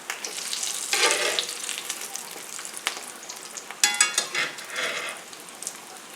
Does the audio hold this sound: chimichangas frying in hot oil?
yes